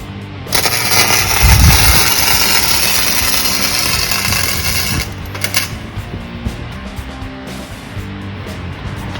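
Welder laying tack welds along the frame edge of a 1946 Chevy truck, a loud crackling buzz lasting several seconds, then short bursts of arcing, with voices talking nearby.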